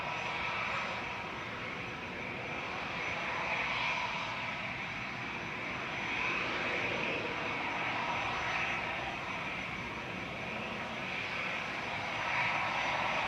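An easyJet airliner in Western Digital livery sits at Manchester Airport, its jet engines giving off a steady, fairly distant roar with a faint whine that swells and eases slightly.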